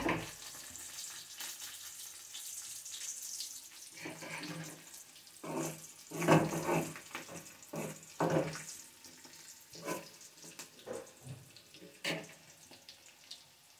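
Onions with curry leaves fry on a low flame for a chutney, giving a soft, steady sizzle broken by uneven bursts of louder crackling and stirring.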